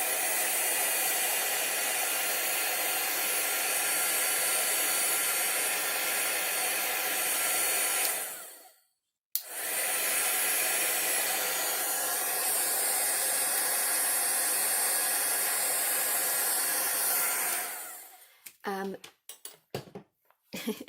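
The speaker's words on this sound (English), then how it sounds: "I'm using my heat gun to hurry up the drying process" Heat gun blowing hot air to dry gold paint on foil, a loud continuous hiss that cuts out briefly and resumes, then stops, followed by a few clicks and handling noises.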